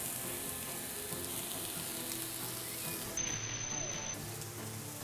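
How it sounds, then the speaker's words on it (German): Olive oil sizzling in a hot frying pan while crab empanadas are being made, a steady, close crackling hiss that continues unbroken throughout. "Jetzt kommt ein wenig Olivenöl in die heiße Pfanne."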